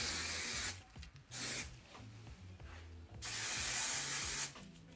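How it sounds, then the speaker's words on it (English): An aerosol can of hairspray hisses in several bursts, some short and one long, loud and close with brief pauses between sprays. "I'm gonna take the hairspray and then spray it"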